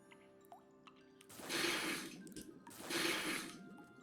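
Water runs at a water source in the Wytchwood video game, two gushing bursts of splashing flow about a second apart, fairly close and alone after a few faint drips.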